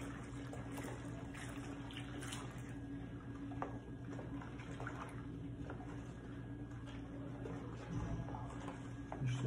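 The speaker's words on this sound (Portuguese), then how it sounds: "Vou colocar mais 1 litro de água." Water pours steadily into a coconut soap mixture, a continuous soft splashing and trickling that sits close and fairly quiet against a low background hum.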